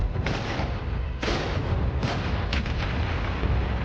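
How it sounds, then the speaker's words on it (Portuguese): Sustained artillery barrage with dense, overlapping booms and rumbling blasts, several sharper impacts standing out against a continuous roar of distant shelling, depicting a valley under fire during the Indochina War. "O vale estava sob fogo de artilharia."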